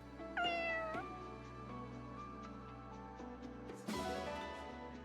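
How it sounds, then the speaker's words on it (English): A cat meows twice, clear and close, the second call rising sharply, over a soft steady background tone. "Is that a kitty cat?"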